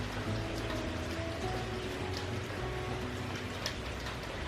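Quiet rain falling steadily as a soft hiss, with faint scattered drips ticking on a surface and a low background hum beneath.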